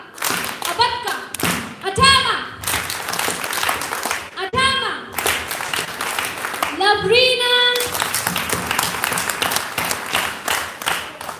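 Bursts of hand clapping in short grouped patterns at an education conclave, interspersed with a voice speaking and counting between the claps.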